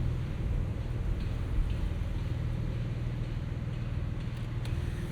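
A 2025 Porsche 911 Carrera T with a six-speed manual on a morning commute, its engine a steady, moderately quiet cabin drone with road noise and no talking.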